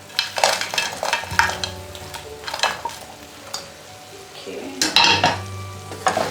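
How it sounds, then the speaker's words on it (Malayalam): Fried chicken pieces drop into a sauce with spring onion and get stirred in a pan for chicken lollipops, bringing loud sizzling, spoon scrapes and clinks against the pan in uneven bursts. "നമ്മൾ ഫ്രൈ ചെയ്ത് വെച്ചിരിക്കുന്ന ചിക്കൻ പീസസ് ഇട്ട് കൊടുക്കാം."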